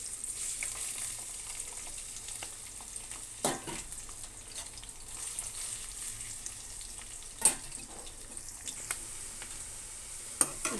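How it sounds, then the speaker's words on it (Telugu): Bitter gourd pieces frying in oil for curry, a soft steady sizzle with a few sharp clinks of a spatula against the pan spaced several seconds apart, close by and alone. "ముందుగా మనం కాకరకాయ ముక్కలన్నీ వేయించుకోవాలి"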